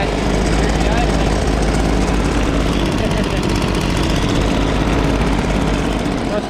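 A small backpack leaf blower engine idles with a steady rough rumble and rattle, close and continuous with no letup.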